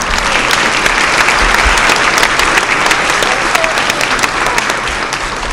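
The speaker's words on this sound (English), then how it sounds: "Round of applause." Applause from an audience at a school Memorial Day service, loud and sustained clapping from many hands, steady throughout with a faint murmur of voices beneath.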